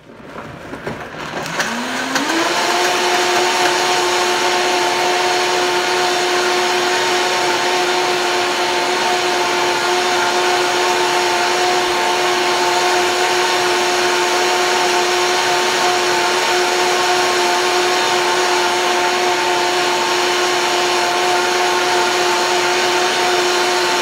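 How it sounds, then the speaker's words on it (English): A kitchen blender runs loud and steady for the whole stretch, pureeing a Shakeology shake with water and frozen banana, its motor spinning up at the start and then holding a constant whine with no talking. "Dump my baggie into my blender."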